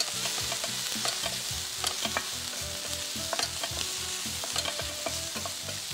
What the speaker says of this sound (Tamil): இதோடு அதை சேர்த்து வதக்கிக்கலாம்.